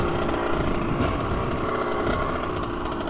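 A Honda CR 125 two-stroke motorcycle rolls slowly along a street past a clinic and a daycare, its engine a steady, loud, low burble at light throttle throughout.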